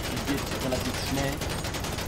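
Gunfire in the video game GTA V, a rapid fusillade of shots rattling steadily at moderate volume under a busy background.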